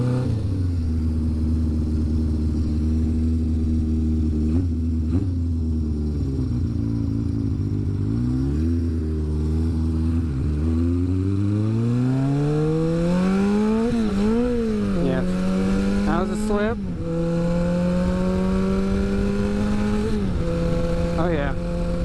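An old project motorcycle pulls out of a parking lot, its engine note rising through the gears with clear revving harmonics climbing and dropping at each shift, loud and close throughout, with a little clatter.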